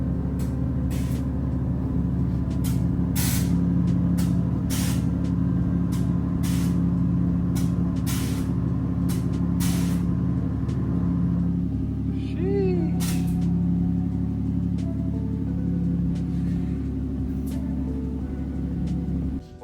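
Airlift air suspension on a Toyota JZX100 calibrating, a steady loud hum and hiss of the compressor with rhythmic clicking valve pulses, running close by for the whole stretch without talk.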